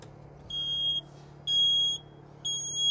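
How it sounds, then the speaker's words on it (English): A photoelectric smoke alarm sounding during a flameless fire test, sharp shrill beeps repeating in a steady pattern of about half-second tones with short gaps, loud and close. "And it's the photoelectric alarm that went off."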